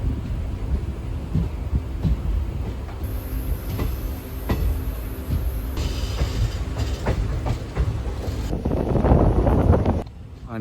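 The Alappuzha–Ernakulam passenger train runs with a continuous heavy rumble and rattle heard from on board, joined by wind buffeting and a rising roar near the end.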